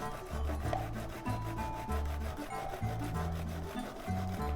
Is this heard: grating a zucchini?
yes